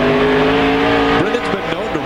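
Race trucks roar side by side around an oval track, a loud sustained engine drone with pitch sweeps as they pass, under a commentator's voice.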